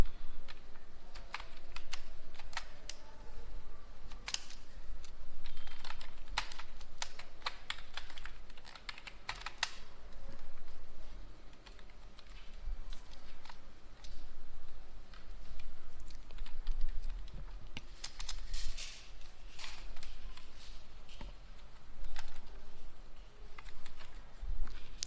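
Steady, continuous typing on a computer keyboard as a grep command is entered, with dense rapid keystrokes and occasional louder key hits, close up with no talking.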